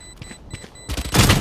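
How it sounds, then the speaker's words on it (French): A spike exploding in the shooter game Valorant bursts in as a loud, dense blast that swells and dominates the end, following a few quieter thuds and beeps. "En plus, le spike il explose."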